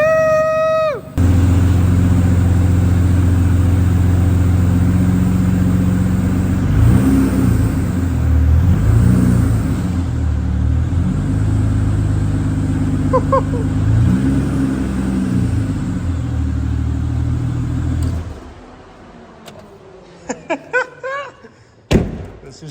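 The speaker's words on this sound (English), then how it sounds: "Oh my God, we have a running engine." Engine-swapped Aston Martin DB9 starting for the first time and running close by, loud steady idle with several revs rising and falling, then cutting off into quiet clanks and thuds near the end.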